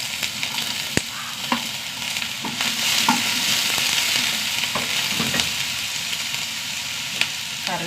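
Onion and green chillies fry in a pan with a loud, constant sizzle close up, broken by occasional scrapes and clinks of a spoon stirring, with no voices.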